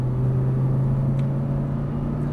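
Audi R8 V10 of 525 hp on a race track, a steady low engine drone that holds level throughout as the car powers back onto the throttle out of a corner, with no talk over it.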